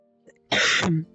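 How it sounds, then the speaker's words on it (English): A single short cough, close to the microphone and fairly loud, from a streamer during a live broadcast. It is a brief rough burst with a quiet lead-in and a fading tail. "I coughed."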